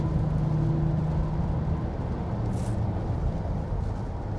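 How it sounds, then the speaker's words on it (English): Steady low road rumble and tyre noise inside a 2020 Genesis G90 on a wet, rainy freeway as a big truck runs alongside, a continuous broadband drone with a faint passing swell and no talk. "There's a big truck beside us here."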